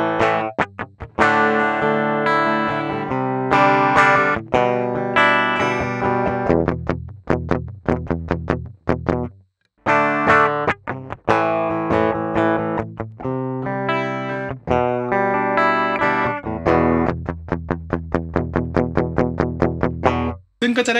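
An electric guitar runs direct through a DI box on an Auguzt Zine cable, playing loud distorted chords and riffs with a short pause and brief breaks between phrases.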